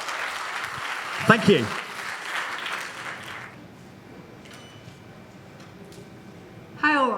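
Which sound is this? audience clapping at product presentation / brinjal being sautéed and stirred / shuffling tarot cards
audience clapping at product presentation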